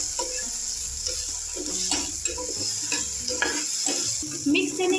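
Green chili paste being stirred into egg bhurji frying in a pan, steady sizzling with repeated scraping strokes of a spatula against the pan, close and clear, with no voices.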